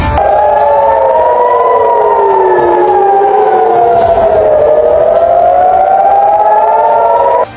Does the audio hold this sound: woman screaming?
no